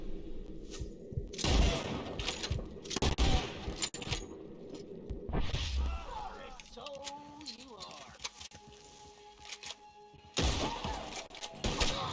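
Gunfire from Red Dead Redemption, scattered bursts of shots and clattering impacts at moderate loudness, separated by quieter stretches of game ambience and some talking.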